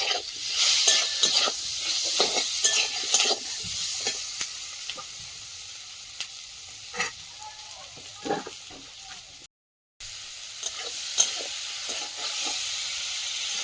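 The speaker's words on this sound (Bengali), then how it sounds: "কচুটা ভালো করে কষিয়ে নিয়েছি" Taro and green chillies sizzle and fry steadily in a pan, with stirring scrapes throughout and a brief silent gap near the end.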